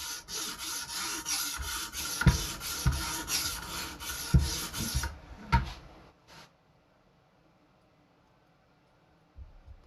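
A carving knife is sharpened with a run of rasping, scraping strokes along the blade, close and fairly quiet, before the sound stops and near silence follows.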